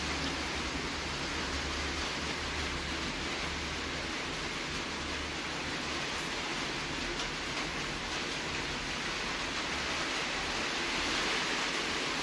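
Steady rain falling during a storm, a dense continuous hiss of water with no breaks, heard alone without talk.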